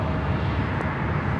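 An Airbus A380 landing on the north side runways at LAX gives a steady, distant broadband rumble of jet engines with low roar and no voices.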